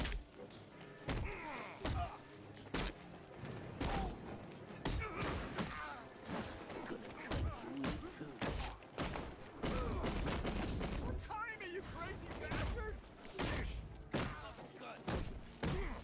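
Gunfire in a Batman video game, dense bursts of shots and heavy thumps over a busy game soundtrack, with a player talking excitedly throughout.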